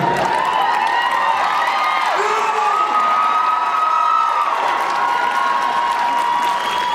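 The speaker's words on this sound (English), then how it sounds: "These are discerning people that are applauding right now." A convention panel audience applauds and cheers loudly and continuously, with steady clapping and whoops filling the room and brief voices rising above the crowd.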